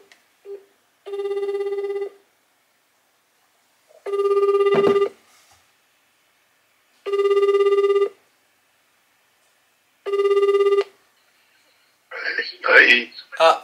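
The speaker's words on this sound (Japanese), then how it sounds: "今回は父ちゃんにいきなり電話してみたいと思います。" Telephone ringback tone on an outgoing call, four evenly spaced ringing bursts about three seconds apart, clear and alone, followed by a voice answering at the end.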